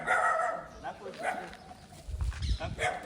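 A dog gives several short barks close by outdoors during a cow-feeding charity outing in Amreli, the yaps rising over background voices and low rumbling noise.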